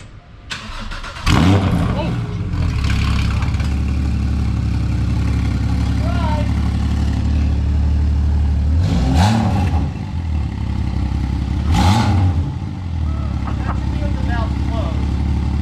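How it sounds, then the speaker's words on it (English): A Porsche Cayman GT4 with a Fabspeed exhaust cranks and fires up with a loud exhaust burst, then settles into a steady rumbling idle with a couple of sharp revs. "Can fire it up. Make sure it's got no leaks"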